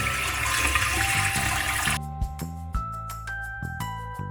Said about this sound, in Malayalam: ചൂടാക്കിയ മുന്തിരിയുടെ ആ ഒരു വെള്ളം നമ്മൾ ഒഴിവാക്കുന്നു.